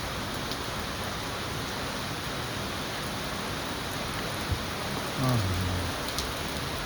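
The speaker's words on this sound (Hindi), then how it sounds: "बहुत तेज़ बारिश हो रही है, मौसम ने पलटी ले ली है।" Steady, dense rain pours down hard, a constant roaring wash of noise throughout, with a faint low rumble near the end.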